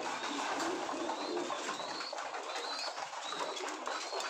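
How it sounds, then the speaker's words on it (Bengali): Desi giribaz high-flying pigeons coo steadily at a bird farm, several birds calling close by with overlapping throaty coos over a constant dense background of chirps and twitter. "এগুলো সব ফ্লাই করানো কবুতর"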